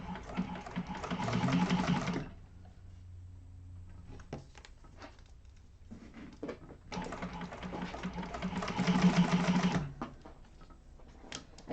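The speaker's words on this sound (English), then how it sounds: "I'm going to chain stitch these." Sewing machine running a chain stitch in two long bursts, freshly oiled, with quieter mechanical clicks and handling in the pause between; the motor whirs steadily and close up.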